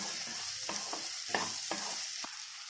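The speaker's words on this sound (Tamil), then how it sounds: "இதுல நான் நறுக்கி வச்ச 2 தக்காளியை சேர்த்து நல்லா வதக்கிடுறேன்." Steady sizzling of tomatoes and onions sautéing in a pan, with a few soft scraping stirs of a spoon cutting through the continuous hiss.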